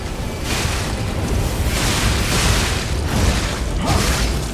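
A fire attack explosion in the Lies of P boss fight roars as a continuous loud, dense burst of noise, swelling in waves for several seconds without pause.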